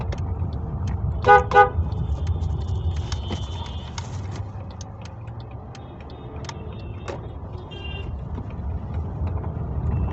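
A car moves through busy traffic on a narrow market road, its engine a low steady rumble while several horns toot in short bursts, one loud double honk nearby and fainter beeps from farther off.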